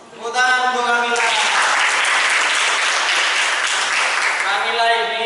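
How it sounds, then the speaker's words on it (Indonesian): Classroom applause for a student named Kamila rises quickly into dense, sustained clapping from a group, set between stretches of a voice speaking at the start and end. "Tepuk tangan untuk Kamila."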